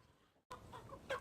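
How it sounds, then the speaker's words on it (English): Silver Wyandotte chickens clucking nearby on a farm, a few short clucks rising after a brief silence, with a sharper call near the end. "that's the Silver Wyandottes"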